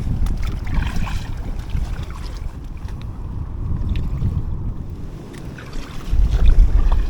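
Strong wind gusts across the River Ancholme around an inflatable kayak. The low rumbling buffet and rushing noise is steady and close, then grows louder at the end.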